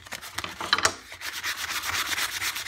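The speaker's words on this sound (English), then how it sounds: "And while I'm sanding this, you're noticing that I'm only doing the top." Hand sanding of a plywood kunai, rapid rhythmic back-and-forth rasping strokes close by, with a couple of brief scraping bumps early on before the steady stroking continues.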